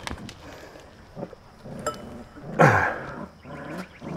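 A livestock guard dog puppy, wet and muddy outdoors, gives low growls and throaty rumbles in short bursts, with one louder snarling growl near the end, close and alone without talk.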